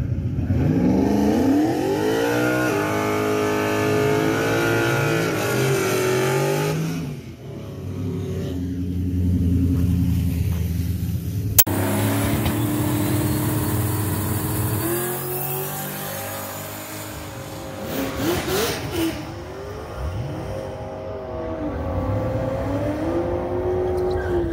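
Boosted drag racing car at the Mod Nationals making a straight pass: a loud engine revs hard through rising gear pulls, drops briefly, then roars again and fades into the distance.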